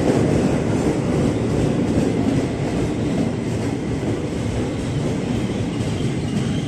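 The Argo Muria long-distance passenger train rolls past a station at Cikini at night, a loud continuous rumble of wheels on rails with faint clatter, close by and steady throughout, without talk.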